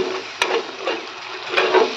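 Tilapia and pumpkin greens curry stirred in a pan, a few close scraping strokes of a spatula with two sharp knocks against the pan over a soft background sizzle.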